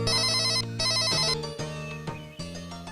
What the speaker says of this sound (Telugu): అమ్మా అన్నయ్య ఫోన్ చేసినట్టున్నాడే